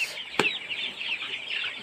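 Chickens on a small poultry farm give a steady, close murmur of clucking, with one sharp click early on and no talking.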